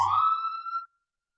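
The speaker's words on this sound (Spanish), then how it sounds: "Una ambulancia y hace mucho ruido." A brief ambulance siren wail rises and fades out within a second, loud and close, then silence.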